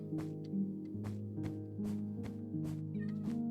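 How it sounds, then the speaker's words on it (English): A cat in the Minecraft video game meows repeatedly over background music, short even calls about every half second, fairly close and moderately loud. "And of course we have a cat on the throne."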